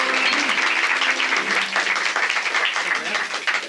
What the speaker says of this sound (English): So would you please bring them off with a little polite applause?